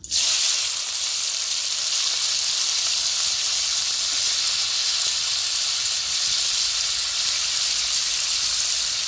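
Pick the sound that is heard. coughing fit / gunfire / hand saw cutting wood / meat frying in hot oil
meat frying in hot oil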